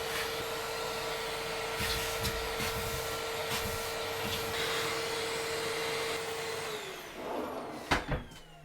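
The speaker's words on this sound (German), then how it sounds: "Ich muss mir wirklich einen Staubsauger holen einmal." A vacuum cleaner runs steadily while cleaning dust out of a PC, a constant whining drone with knocks and scrapes of the nozzle, then the motor winds down near the end.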